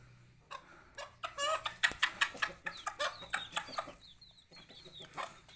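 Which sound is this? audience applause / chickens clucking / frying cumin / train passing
chickens clucking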